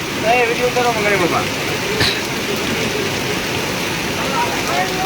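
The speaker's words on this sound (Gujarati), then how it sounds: "જોરદાર વરસાદ પડી રહ્યો છે" Dense, steady rainfall pours down in a continuous wash of noise in Kadiyana village during the season's first rain, with voices and shouts of children playing mixed in under the downpour.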